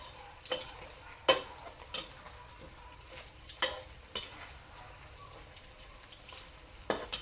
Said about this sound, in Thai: ตัดเป็นชิ้นเล็กๆทอดก็ได้ค่ะ